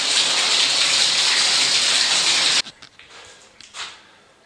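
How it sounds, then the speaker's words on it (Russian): Water draining from a bathtub makes a steady loud gush that cuts off abruptly, leaving faint gurgles and drips. "Сливаю воду."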